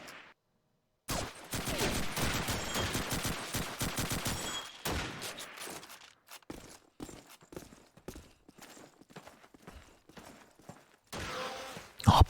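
Rapid bursts of gunfire from a competitive online shooter match, dense and loud at first, then sparser scattered shots with some mechanical clatter, ending in a few sharp close shots.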